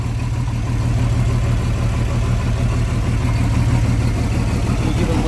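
A 1976 Volvo-Penta AQ 178 boat engine runs steadily at idle, a loud, continuous low rumble with an even mechanical throb and no voices.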